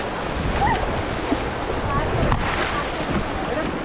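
Rushing whitewater of the Ganges rapids at Rishikesh, heard from a rafting boat as a steady loud roar of churning water with wind buffeting the microphone, no clear talk over it.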